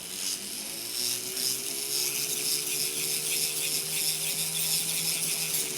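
An electric nail drill files SNS dip-powder nails with a steady whirring hum, its pitch rising slightly as light pressure is applied, with faint scratchy grinding on top.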